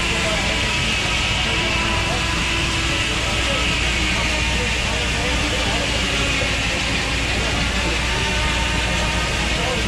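An old steam engine drives a sawmill at an antique engine show, giving a steady, loud outdoor mechanical rumble and clatter that runs continuously and evenly throughout, with dense broadband machinery noise and no pauses.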